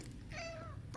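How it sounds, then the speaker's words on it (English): A pet cat gives one short, quiet meow indoors, rising and falling briefly over a low background hum. "Let me show you my cutest kitty."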